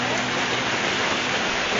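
Hail pelting down outdoors on a spring day in California, a dense, steady broadband patter like heavy rain hitting surfaces, loud and continuous throughout with no voices.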